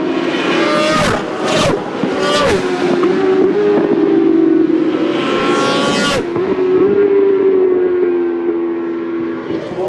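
A racing motorcycle at the 8 Hours of Spa endurance race screams past trackside, its high engine note loud and sustained, rising and dropping as it passes with sharp gear-change cuts, no voices.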